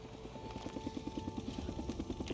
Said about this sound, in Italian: Oh, un altro elicottero della Ontario, Nero.